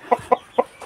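Backyard egg-laying chickens cluck close by, four short clucks in a quick irregular burst, the last one softer, with no voices.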